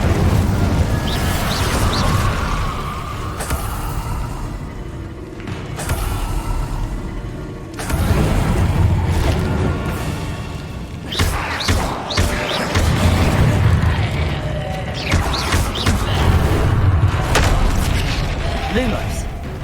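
Fire spells from Hogwarts Legacy burst and whoosh with low booms at irregular intervals during gameplay. A voice talks over much of it.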